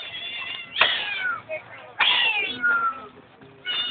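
Cat meowing and caterwauling in loud, drawn-out wails, three long cries separated by short pauses, close by with background noise and voices.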